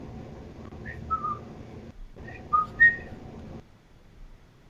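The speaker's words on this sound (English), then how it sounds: "I'm just whistling." Several brief whistled notes from a person rise over steady low background hiss, with a quiet pause between phrases before the whistling stops.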